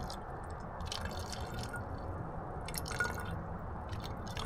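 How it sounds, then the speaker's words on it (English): Tap water trickles and splashes into a reused bottle in short uneven pours, close and wet-sounding over a steady background hiss. "we're going to add a little bit of water. This is actually tap water"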